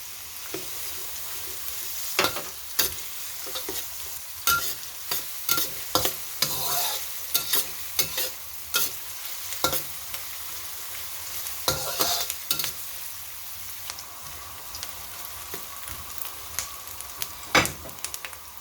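A medium white or yellow onion sautés in a pan for spicy ginataang manok with kamias, a soft sizzle running under repeated scraping stirs of a utensil against the pan.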